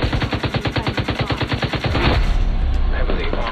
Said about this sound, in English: I'm gonna have to be down here with my light machine gun